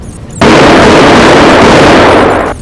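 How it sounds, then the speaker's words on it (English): Automatic shotgun blasts in a dramatic audiobook scene, fired from a drum-magazine weapon, burst in abruptly as one loud, sustained roar of rapid, overlapping gunfire that holds for about two seconds before cutting off. "with every blast from Sam's shotgun"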